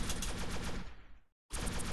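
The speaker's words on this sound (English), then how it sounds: "Aim at them with the crosshair and press the button to shoot." Rapid automatic gunfire from the shooter video game Shell Fire, tight bursts of shots that stop briefly near the middle, then resume at full volume.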